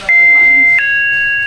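A Sentry SSLD 115 smart door lock alarm sounds in two sustained electronic beeps, the second slightly lower in pitch, close and piercing.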